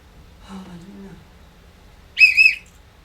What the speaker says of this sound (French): Tu as trouvé mon sifflet